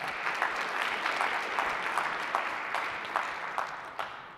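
Audience applause at the MIT $100K Entrepreneurship Competition pitch night: a dense, steady wash of many hands clapping that carries evenly through the whole stretch with no voices.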